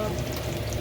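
Vegetable eggrolls deep frying in hot oil give off a steady, close sizzle and crackle that holds without a break throughout.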